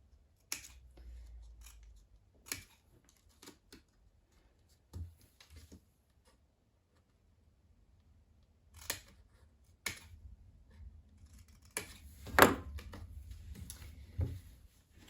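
Scissors snip scattered cuts through paper, bevelling the edges, in sparse, isolated clicks with long quiet gaps and a louder snip near the end, close and soft.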